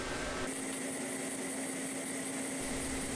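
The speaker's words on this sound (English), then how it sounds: "This is at 250 pulses per second. Pretty much welds just like it would normally, but as you can hear it still is pulsing pretty fast." A pulse TIG welder runs at 250 pulses per second, giving a steady, close, loud buzzing hum with a rapid pulsing edge that holds evenly throughout.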